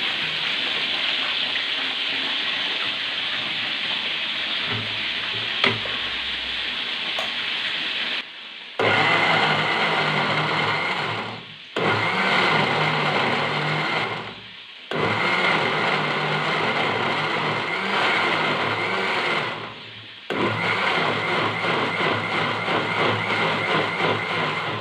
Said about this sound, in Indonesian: Dan terus di blender.